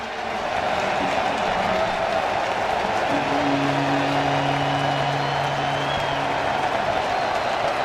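Dense football stadium crowd noise from fans at a Patriots vs Seahawks game, a steady loud roar of cheering and clapping with sustained tonal horns or chants rising from the middle onward.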